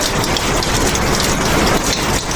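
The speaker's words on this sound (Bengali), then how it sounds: "দেখুন কীভাবে একটানা বৃষ্টি হয়েই চলেছে একেবারে পানি থই থই করছে" Continuous heavy rain pours down on a rainy day, a dense, loud, unbroken roar of drops hitting surfaces close by, with no voices.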